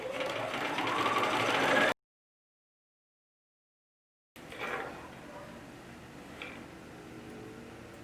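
A sewing machine stitching across the bottom of a small zippered pouch, a brief close run of rapid whirring, then a pause of silence and faint handling noises afterward.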